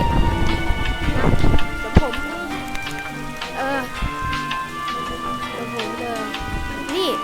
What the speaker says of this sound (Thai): เปิดมาฝนก็ตกเลย